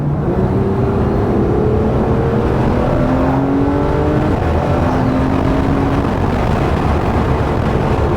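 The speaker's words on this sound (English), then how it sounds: "so you can hear the exhaust sounds of this" A Porsche GT3 RS exhaust roars loudly from inside the car in manual mode, with rising and falling revs through several gear pulls over a continuous, dense engine drone.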